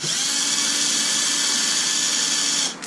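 A power driver whirs continuously while screws are backed out during the dismantling of a Super Typhon build, a loud steady motor whine running nearly the whole time before stopping abruptly.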